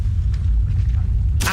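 A Depulso spell cast in Hogwarts Legacy, heard as a deep, rumbling magical boom that ends in a sudden bright whoosh.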